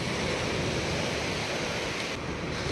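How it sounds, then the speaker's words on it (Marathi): Ocean surf on a Konkan beach at Vengurla, near the seaside cottages, rushes in a steady, loud roar of breaking waves with a wind-like hiss and no pause. "लाटा जशा किनाऱ्याला धडकतात ना, खूप आवाज येतो इथे"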